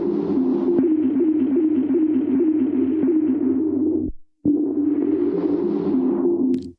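Synthesized sound texture from the iOS Sliver app: a dense, steady droning wash that cuts out abruptly for a moment near the end, then swells back in at a similar level.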